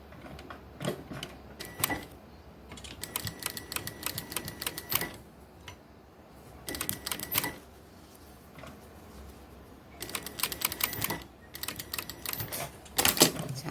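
A sewing machine stitches a fitted skirt hem in rapid, clattering bursts that start and stop several times. There are short pauses and light handling sounds between the runs of stitching.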